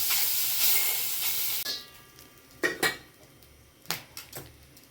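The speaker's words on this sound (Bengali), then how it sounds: "এই অল্প তেলেই আমি দেখো ভেজে নেব" Shing fish frying in a small amount of oil in a pan, a bright sizzle that starts loud then drops, with sharp clinks and scrapes of a utensil turning the fish in a few bursts.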